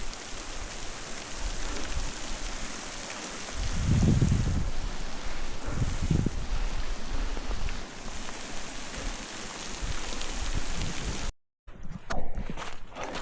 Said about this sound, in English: Wow, that's quite a downpour.